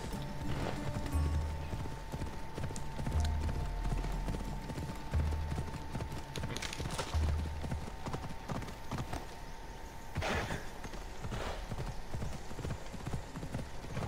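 Rhythmic clip-clop of horse hooves trotting steadily in Assassin's Creed Odyssey, with a horse's whinny at one point over a constant background hum and game ambience.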